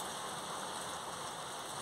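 Steady, heavy rain pouring down and pattering on surfaces nearby, a continuous dense hiss with no voices.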